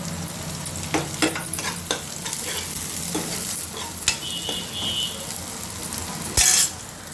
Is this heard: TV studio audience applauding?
no